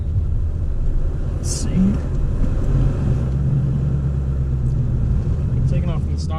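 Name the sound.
2018 Ford Mustang GT manual accelerating from a stop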